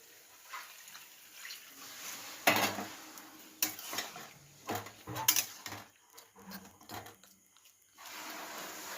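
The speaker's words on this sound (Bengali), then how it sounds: "এবার সিদ্ধ মটর আর আলুটা এর উপরে দিয়ে দেবো। একটুক্ষণ নাড়তে থাকবো।" Boiled peas and potatoes stirred in a pan, with irregular clinks and scrapes of a utensil against metal and some wet, sloshing bursts, fairly close and without talk.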